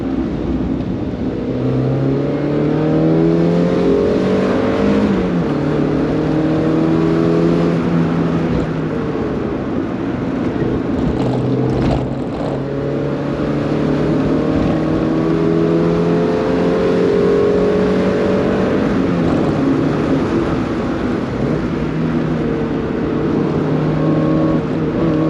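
A Mazda MX-5 Mk1 1.6 drives and accelerates, its engine loud and close as the revs climb repeatedly through the gears in rising sweeps, with a constant road roar underneath.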